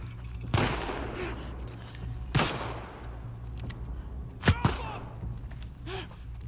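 Rifle fire in the video game The Last of Us Part II: four sharp, punchy shots, one near the start, one midway and a quick pair close together, each cracking out over a low, steady background hum.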